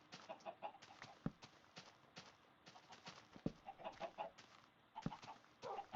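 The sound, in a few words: chicken clucking in the video game Minecraft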